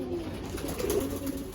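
Soft, low pigeon cooing from a loft of fancy Jira-coloured and Sakdum pigeons, a steady murmuring coo lasting the whole moment with no talk over it.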